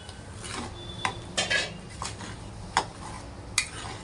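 A metal spoon scrapes and clinks against a pan while paneer masala is stirred into thick gravy, giving several sharp taps and rubbing strokes at close range with no talk.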